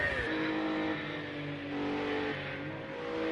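A BMW race car engine drones steadily in a racing game at night, a sustained mid-level whine with slight pitch shifts as it holds revs, fairly quiet and without talk.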